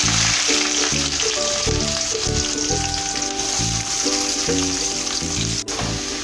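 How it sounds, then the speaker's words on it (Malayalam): Onions frying in hot oil with cardamom and cinnamon give a loud, steady, dense sizzle that fills the whole stretch, with faint rhythmic stirring thumps underneath and no voices. "ഇനി നമുക്ക് നമ്മുടെ സവാള ഇട്ട് കൊടുക്കാം."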